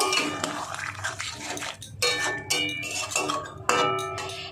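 Ground cardamom, clove and cinnamon spice mix stirred into a cauliflower and parshe fish curry in a pan, with repeated metallic scraping and clinking of a spoon against the pan, close and fairly loud.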